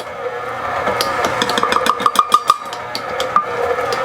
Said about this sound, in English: you don't have to worry about the mixer burning out because the clutch inside keeps it from doing that